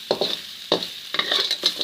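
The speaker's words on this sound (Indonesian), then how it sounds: "Lalu kita tumis" Ground spice paste sautéing in a little oil in a pan for fried chicken noodles, a steady high sizzle broken by several short scraping stirs, close and fairly loud.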